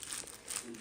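Plastic cling film crinkles around a dish as it is wrapped before going into the fridge, a soft, continuous crackling close by over less than a second, with no one speaking.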